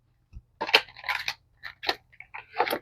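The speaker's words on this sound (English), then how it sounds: "I adore the way that this side shuffles." A holographic-edged oracle card deck is shuffled by hand, producing close, crisp bursts of riffling and flicking cards in short irregular runs separated by brief pauses.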